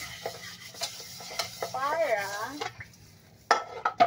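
A wok being washed, with metal scraping and clanking against the pan in short irregular bursts, interspersed with brief splashes and clatter of dishes, close and moderately quiet.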